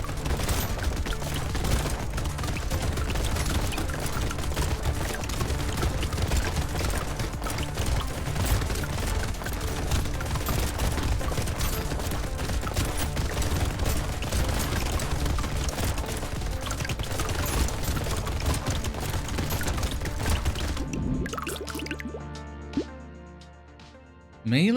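Dense, continuous gunfire and bullet impacts from the Brotato arena shooter, a steady loud barrage of rapid shots with game music and chimes underneath, cutting off abruptly near the end.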